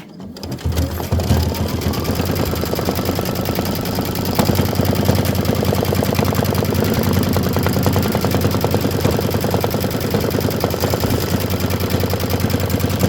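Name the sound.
embroidery machine stitching a white satin outline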